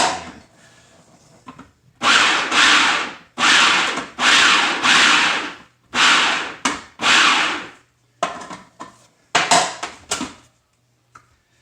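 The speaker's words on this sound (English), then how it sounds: "Sometimes you got to grab the spatula, take the top off, just so you can make sure you got everything in there." A spatula scrapes around the inside of a cooking pot in a series of loud, close, rasping strokes, each lasting about a second, separated by short pauses, with no talk.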